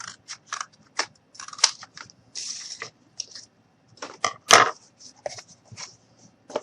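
Scissors or a blade cut through cardboard, a run of short rasping snips and crunches in an irregular rhythm with brief pauses between, close and crisp, with no talk.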